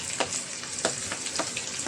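Tomatoes sautéing in a pan for pinakbet, a steady soft sizzle broken by repeated stirring scrapes at a brisk, uneven rhythm, close and moderately quiet.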